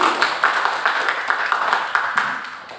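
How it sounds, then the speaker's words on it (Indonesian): Workshop audience at a scientific publishing event clapping for a speaker, a brief steady patter of many hands at moderate volume, slowly fading toward the end. "tepukan yang meriah dulu untuk materi kita"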